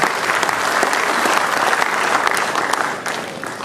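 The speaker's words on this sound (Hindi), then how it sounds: "एक और जोरदार तालियों के साथ आपका स्वागत" An audience at an indoor cancer survivors' day ceremony claps steadily and densely, a thick wash of applause that holds level and then thins slightly toward the end.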